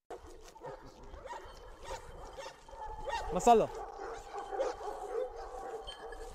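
Turkish shepherd dog, a very large dog around 100 kilos, gives short barks and whimpers outdoors, mixed in with people talking nearby.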